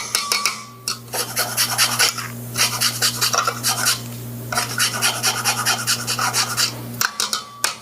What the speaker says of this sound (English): Put a little bit of key lime zest, just to brighten the flavors a little bit.